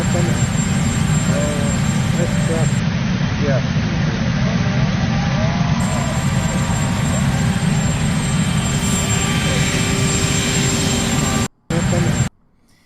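A helicopter at an outdoor political departure produces a loud, steady engine drone under people talking, cutting out abruptly near the end.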